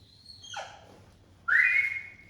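A person whistles, first a faint falling tone, then a stronger steady high note held for nearly a second, close and alone with no talk.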